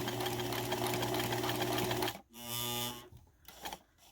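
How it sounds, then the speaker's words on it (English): A sewing machine stitching a 90-degree boxed corner runs at a steady, loud, close-up hum for about two seconds. It stops, then gives a shorter burst of stitching, followed by a few faint clicks and handling sounds. "I'm going to just do a few more stitches"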